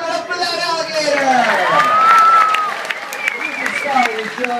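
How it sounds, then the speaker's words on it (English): An audience at an alligator wrestling show claps and cheers for the gator, continuous crowd applause with voices calling out over it throughout. "Give it up for that alligator."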